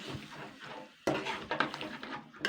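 A spoon or spatula stirring fried pumpkin in a cooking pan, with soft scraping and clinking strokes after a brief quiet gap, close and fairly faint.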